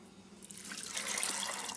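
Tap water runs into a pot for boiling washed chana dal at home, a steady close splashing stream that begins softly and swells fuller partway through, with no talking.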